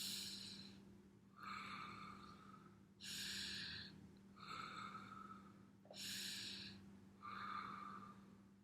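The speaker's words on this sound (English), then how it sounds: "and then I breathe in." A person breathes slowly and deeply, close and quiet, with about six airy breaths coming in a calm, even rhythm over a faint low hum.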